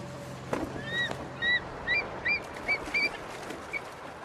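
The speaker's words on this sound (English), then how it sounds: "It's a great time of year with all the birds coming through, isn't it?" Short, high calls of geese, ducks and other birds repeat in quick bursts every half second or so over a steady outdoor hiss, with a couple of soft knocks early on.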